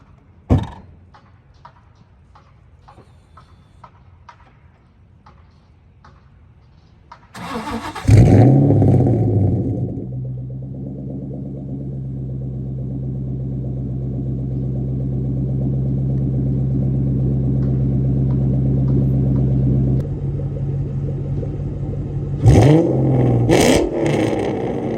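A 2003 Ford Mustang Mach 1 with an off-road X-pipe, Magnaflow mufflers and no catalytic converters cranks and fires into a loud, deep idle after a quiet stretch of faint clicks, then blips the throttle a few times near the end.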